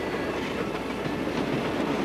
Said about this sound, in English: Here's another mountain train traveling through the snowy mountains of Switzerland.